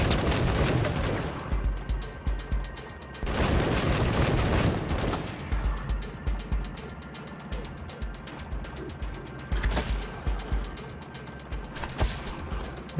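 Gunfire in Wasteland 3 comes as two dense, loud bursts, followed by scattered rapid shots and thuds of combat that fade and then flare again, close by.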